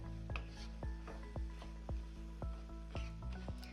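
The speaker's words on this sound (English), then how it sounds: "Now's a great time to stir your apples." Apples sautéing in a pan and being stirred: a low, soft sizzle under a regular series of about a dozen sharp scraping strokes of a utensil against the pan, quiet and close.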